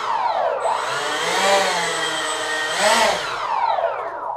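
A Mirage jet taxis on the ground, its turbine whine steady and loud with rising and falling tonal sweeps as the engine spools, up close and without voices.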